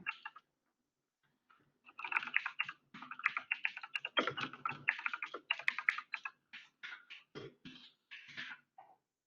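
Someone types text on a computer keyboard in quiet surroundings: light, close clicking in irregular runs after a short pause, with no talking.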